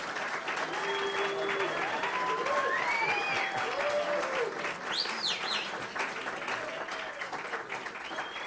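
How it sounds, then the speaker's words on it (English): Audience applause greets a speaker being introduced at an evening creativity talk, a moderate wash of clapping with a few bird chirps and whistling tones threading through, no clear voices. "So give him an applause already."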